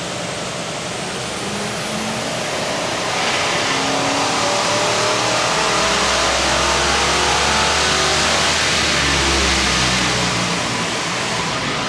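A 5-litre Ford Windsor V8 runs hard on a chassis dyno at a Ford dyno day, a loud close sustained roar climbing steadily in pitch through a long pull and staying at full revs near the end.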